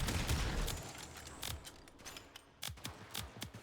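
Rapid bursts of video game gunfire from a Warframe-style blast-status build, with shots and explosive impacts chaining over one another in irregular, fairly faint clusters.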